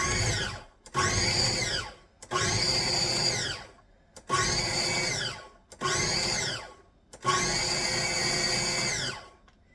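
A blender whirs in short bursts, six pulses separated by brief silences, loud and close with a grinding motor tone.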